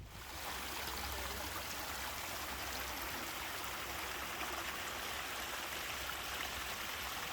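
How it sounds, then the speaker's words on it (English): Small impromptu waterfalls along the side of Ladybower Reservoir, a steady broadband rush of falling and splashing water, constant and fairly close, with no voices. "There are loads of these little impromptu waterfalls at the side of the reservoir."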